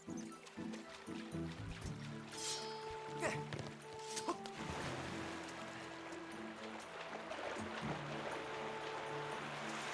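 Waterfall in the video game The Legend of Zelda: Skyward Sword HD, a steady broadband rush of falling water that runs throughout, with game music tones and brief sound effects layered over it in the first half.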